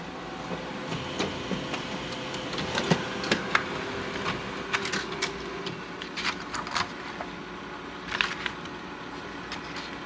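A laser printer, its toner cartridge just refilled, runs through a page with a steady mechanical whir broken by clicks and clacks from its rollers and feed, close by with no talking.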